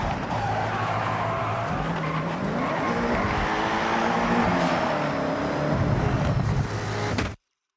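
Engine roar with tires squealing through a long slide in the video game Forza Horizon 6, loud and continuous, with a high whine overhead before it cuts off abruptly.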